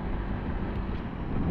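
Strong wind buffets an outdoor microphone beside a Honda Click 160 scooter, a steady low rumbling roar that stays loud and unbroken throughout with no speech over it.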